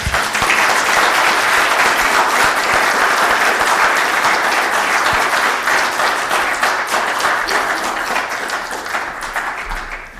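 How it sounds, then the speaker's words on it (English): A round of audience applause at a lecture event in Cambridge, thick and continuous clapping that stays loud before tapering slightly toward the end. "Can we have one more round of applause?"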